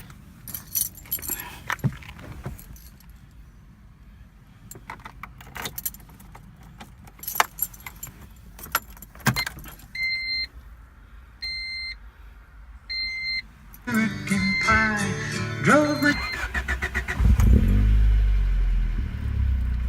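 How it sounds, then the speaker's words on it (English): A 1988 Honda Civic wagon being started: keys jangle and clink first, then a few electronic chime tones, then the starter cranks and the engine catches into a rough, rising idle that settles into a steady close hum. "Let's get in here and start it up. Let's hear it."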